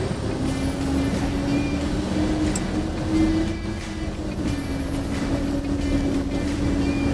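A Bell articulated dump truck pulls away in second gear and accelerates at full throttle up a hill, its engine a loud, steady droning roar with a low tone that climbs gradually and then levels off.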